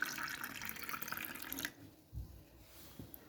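Kangen water pours into a glass for soaking lady finger vegetables, giving a faint, close, gurgling splash that stops partway, followed by a few soft drips.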